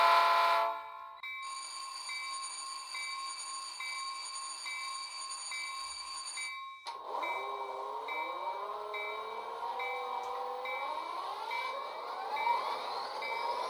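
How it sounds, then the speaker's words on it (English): A DCC-controlled model locomotive horn sounds in long steady blasts, then shifts into a warbling, rising tone that continues to the end, loud and close. "try pressing F1 for the bell, or F2 or F3 to honk the horn"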